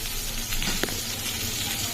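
Food frying in oil makes a steady, close sizzle, with one short scrape or clink in the middle.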